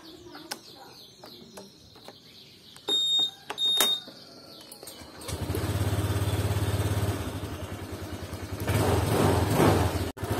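A Honda Vario 150 scooter engine is started after a few clicks and beeps, then settles into a steady, close idle hum with a brief rise in revs near the end.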